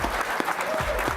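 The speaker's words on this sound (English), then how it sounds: "Please give them your applause." Audience applause at a NASA award presentation honoring an aviation prize team, a brief, steady burst of clapping with a few sharper claps standing out.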